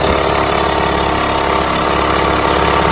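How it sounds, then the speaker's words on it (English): A Mercury 3.9 kicker outboard motor with cooling problems runs at high idle, giving a loud, steady, close drone with a fast regular pulse and no letup. "when I rev it up, it comes out pretty good. High idle, comes out pretty good."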